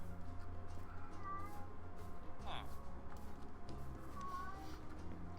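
A cat meows twice in the Township Tales video game, short mid-pitched calls rising over a steady low game hum and background music.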